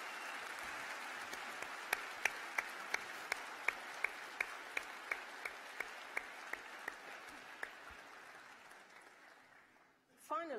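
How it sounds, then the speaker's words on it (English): Graduates applaud staff at a university graduation ceremony, a broad wash of clapping from a large hall with a few slow rhythmic claps standing out, fading gradually before a voice resumes at the end. "So I invite you graduates to give colleagues here a round of applause for all they have done for"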